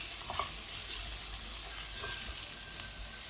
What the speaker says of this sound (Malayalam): പൊട്ടറ്റോയിൽ നന്നായിട്ട് എണ്ണയിൽ ഒന്ന് ഫ്രൈ ചെയ്തെടുക്കണം